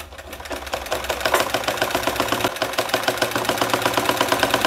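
A sewing machine stitches all the way around two layered pieces of fabric, running in a steady rapid needle rhythm that stays close and loud throughout with no talking.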